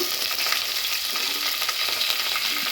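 Onion, green chili and curry leaves frying in a pan for vegetable uppittu, a steady close hiss and sizzle with faint stirring scrapes and no talking.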